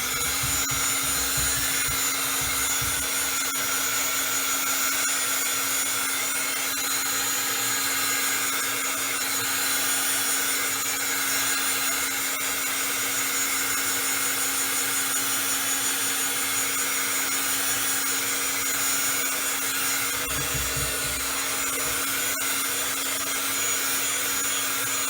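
A heat tool blows steadily to dry ink on paper, making a loud, continuous whirring hum that holds through the whole stretch with a few slight shifts, and no talk.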